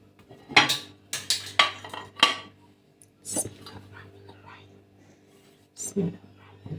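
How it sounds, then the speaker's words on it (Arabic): A caramel cream potato dessert is turned out of its pan onto a plate, with a series of close clinks and clatters of dishes and a faint murmur of a voice in between. "هنجيب بقى طبق ونقلبها سوا مع بعض"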